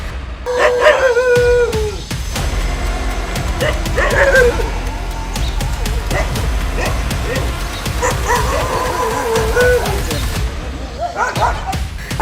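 Several stray dogs bark and yip in repeated bursts on a street, some close and loud, with people talking over and between the barks throughout.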